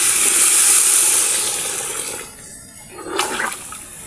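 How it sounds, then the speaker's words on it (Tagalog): Water pours into a pot for chicken arroz caldo with a loud rushing splash that fades and stops briefly, then a short hissing burst as it hits the hot pot. "At ilalagay na natin yung tubig."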